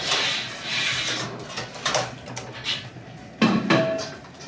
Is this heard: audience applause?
no